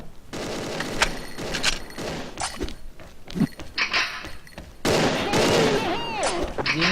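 Gunfire in the shooter game Xshot during a competitive match, with several bursts of shots and rattling automatic fire crackling over busy game noise while a commentator talks throughout.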